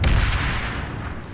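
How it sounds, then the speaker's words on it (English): A grenade blast in the sci-fi shooter PlanetSide, a heavy low boom with a sharp crack near the start, then a rumbling tail that fades slowly over about a second. "You missed your grenade"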